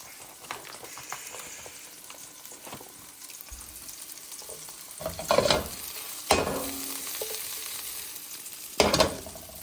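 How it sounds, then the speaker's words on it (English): Mushrooms sizzle steadily in a hot frying pan, with a few louder bursts of crackling and stirring scrapes. "Nice and sizzling."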